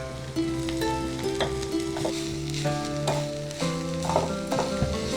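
Chandi leaves frying in oil in a pan give a steady sizzle, with stirring scrapes and clinks on top and music running all the way through.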